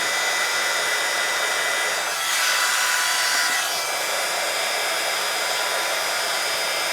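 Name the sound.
heat gun blowing over an embossed stamped card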